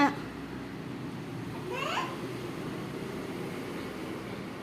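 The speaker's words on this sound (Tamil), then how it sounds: "அது குட்டி பூனை." A kitten gives a single short, faint meow midway through, over steady background noise.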